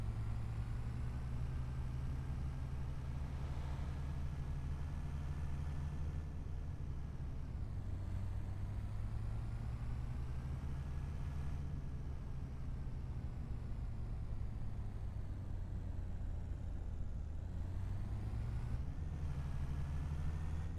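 A borrowed dealership truck in Farming Simulator 25 runs with a steady low engine drone, revs gently rising and falling a few times over a long stretch, moderately quiet with no voices.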